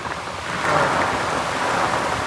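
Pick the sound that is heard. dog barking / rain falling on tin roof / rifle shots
rain falling on tin roof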